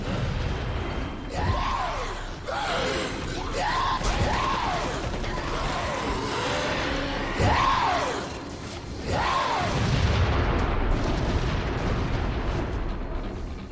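Rocket explosions in the Crackdown 2 Xbox 360 game boom one after another in heavy bursts with rising and falling whooshing tails, loud and dense over a constant game rumble.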